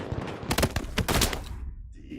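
Gunfire in the shooter game Battlefield 6, a dense burst of rapid, overlapping shots over about a second and a half, loud and close, with game ambience and faint voices around it, then tapering off.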